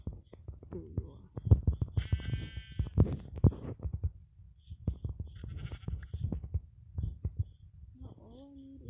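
Sheep in the Minecraft video game bleat in short, brief calls amid soft footsteps and clicking game noises, fairly quiet and close.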